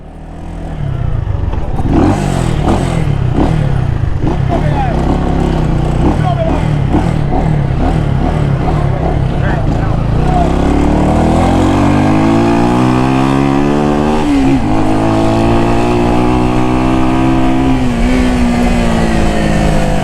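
A six-speed Honda Rebel 200cc motorcycle engine roars loud and close, revving and climbing through gears with rising and falling pitch, steady and continuous, with voices talking over it.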